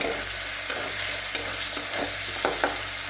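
Whole garlic cloves fry in oil, crackling steadily up close while a spoon stirs and scrapes through them with a few sharp clinks.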